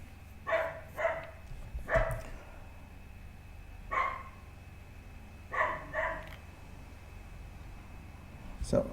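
A dog barks in short clusters of sharp woofs, several pairs and single barks spread irregularly, moderately near and loud against a quiet low-hum background.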